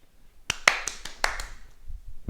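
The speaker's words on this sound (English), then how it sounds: "So bounce, clap and catch." Tennis ball bounces, a hand clap and a one-handed catch in a quiet room at home, a handful of sharp close taps in quick succession, then a low rumble.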